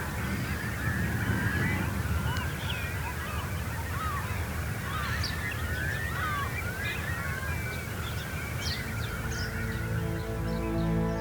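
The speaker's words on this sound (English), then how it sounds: "There is a spectacular show from the wild birds that have made the Marshland their home." Dense flocks of wild birds on a salt marsh at high tide on an estuary, a continuous clamour of honking and calling close and far, steady throughout without any voices.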